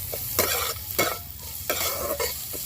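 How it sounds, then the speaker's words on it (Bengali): Chopped onion fries in a pan after ginger and garlic, sizzling loudly as a spatula stirs it in several distinct scraping strokes, close up. "এখন পেঁয়াজটাকেও একটু হালকা করে ভেজে নেব।"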